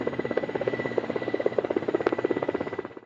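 A helicopter used as the only crossing to the opposite riverbank, its rotor producing a steady, rapid thudding pulse close by, loud and continuous before cutting off abruptly at the end.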